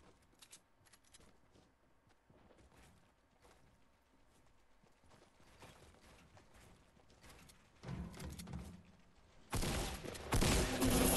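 Gunfire from a gunfight in the video game Fortnite, scattered faint shots and clattering early, then louder bursts near the end, with no talking.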